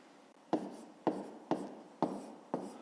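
Pen strokes on paper as a maths solution is written out: five sharp, evenly spaced scratchy taps about half a second apart, close and clear, with no talk.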